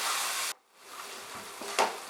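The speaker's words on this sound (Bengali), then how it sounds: "মাঝারি আঁচে মশলাটাকে কষিয়ে নেব যতক্ষণ না মশলাটা থেকে তেল বার হচ্ছে" Spiced masala paste sizzling as it is sautéed in oil over medium heat for Bengali chicken keema tadka, a dense hiss that cuts off briefly, then resumes more softly with faint stirring scrapes.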